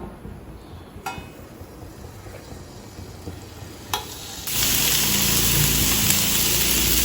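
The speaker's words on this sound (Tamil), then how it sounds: "தோசைக்கல்ல கொஞ்சம் எண்ணெய் ஊற்றிடுங்க. 1/2 கரண்டி எண்ணெய் ஊற்றிடுங்க. இப்போ அதெல்லாம் மீனெல்லாம் ஒவ்வொன்றா வைக்கலாம்." Fish pieces laid one by one into hot oil on a flat dosa pan for a traditional fish curry, with a soft crackle that jumps to a loud, steady broadband sizzle partway through, punctuated by a couple of sharp clinks.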